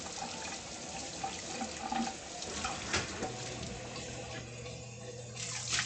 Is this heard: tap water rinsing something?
yes